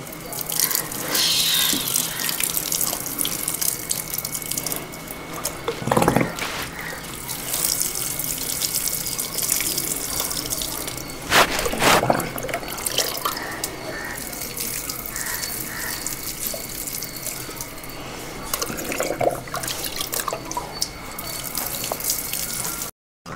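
Water splashes steadily as it is poured over potted plants in a home rooftop garden, a continuous close gush with a few brief louder bursts, no talking.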